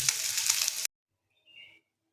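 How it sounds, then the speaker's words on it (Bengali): Shrimp frying in a pan, a loud steady sizzle that cuts off abruptly, followed by a faint short sound. "এভাবে আমরা চিংড়ি মাছগুলোকে 5 মিনিট ধরে ভালোভাবে ভাজা করে নেব।"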